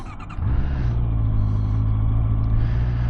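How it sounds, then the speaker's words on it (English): A Honda CBR650R motorcycle with E-clutch cranks briefly and fires up, then settles into a steady, close, low idle rumble with no talking. "start the bike."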